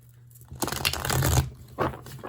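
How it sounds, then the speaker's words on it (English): A deck of cards is given a quick shuffle, a brief, close, papery riffling burst lasting about a second, then a softer flutter as the cards settle. "let me do a quick shuffle."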